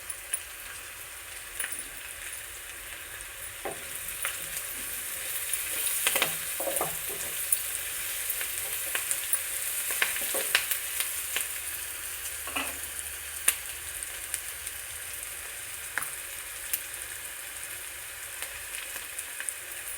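Curry leaves and green chillies fry in hot oil with a steady, fairly loud sizzle and hiss, broken by scattered crackles and spatter pops and a few stirring clinks, with no talking.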